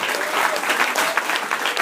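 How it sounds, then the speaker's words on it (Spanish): A church congregation gives a short burst of steady, dense clapping that fills the room, with no break in the applause. "¿Por qué no le da un aplauso a él?"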